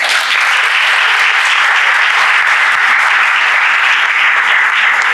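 Sustained applause from an audience honoring teachers at the opening of a drug-prevention event in Veliko Tarnovo, dense steady clapping that fills the whole stretch without pause.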